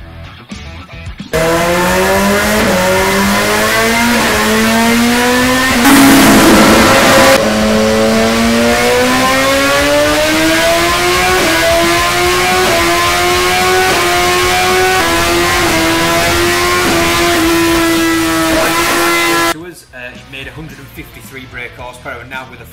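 A 2016 BMW S1000R motorcycle with an ECU remap revs hard on a dyno, its engine note climbing in a sustained high-rpm pull for most of the run before cutting off; talk is audible around the run.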